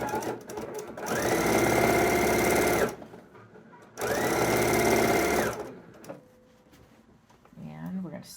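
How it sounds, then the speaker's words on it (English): A sewing machine stitches binding onto a quilted jacket in two loud, even running bursts of a few seconds each, separated by a pause, with a faint voice speaking near the end as the work is handled. "I'm going to sew this binding on with the sleeve open"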